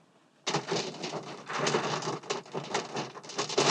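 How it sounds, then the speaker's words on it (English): Rain begins at a dispersed campsite beside Gross Reservoir near Nederland, Colorado, a sudden onset of steady, dense pattering that holds at moderate loudness and stays close and continuous for several seconds, with no voices. "it started to rain."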